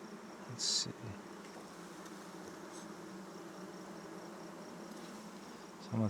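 Honeybees hum in a soft, steady drone from an open hive one week after a Demaree split, with a few brief louder buzzes as bees pass close.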